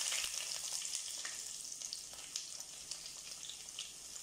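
Garlic, ginger and shallots sizzle in hot oil with fenugreek for a coconut fish curry, a close, steady crackling hiss with small pops throughout and no talk.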